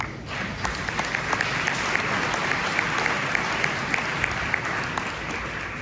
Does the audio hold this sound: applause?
yes